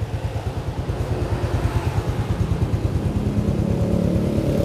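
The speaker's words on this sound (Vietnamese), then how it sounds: "Mình vẫn đang nổ máy đó" A Honda Supra X motorcycle, imported from Indonesia, idles with its engine running: a steady, close, even low putter with a faint rise in pitch and no voices.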